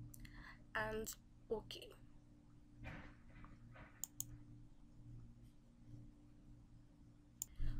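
Mouse clicks while configuring a Group Policy setting in Windows, a few sharp isolated clicks spread across the clip amid quiet talk and low steady hum.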